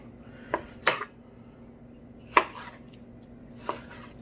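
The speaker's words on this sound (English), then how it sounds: "doesn't have to be finely chopped" A kitchen knife chops food on a cutting board for a pork dish with tomato and green beans, giving four distinct, close knocks spaced unevenly with quiet gaps between them and no talking.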